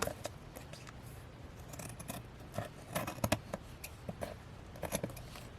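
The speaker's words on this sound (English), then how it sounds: "I'm just going to cut that even." Scissors snipping through stickered paper for a journal, a run of close, quiet crisp cuts in uneven bursts, louder in a quick cluster near the middle, no talking.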